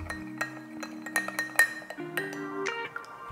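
Chow mein sauce of soy sauce, rice vinegar, hoisin and toasted sesame oil stirred in a bowl, giving a string of light clinks and taps of a utensil against the dish, close and fairly quiet, with no talking.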